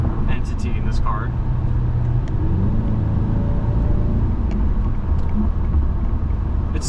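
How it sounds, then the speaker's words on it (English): A steady low engine hum rumbles beneath road noise inside a moving 2004 Mercedes-Benz E55 AMG, constant throughout, with a few faint clicks and squeaks on top. "You could just kind of hear that engine"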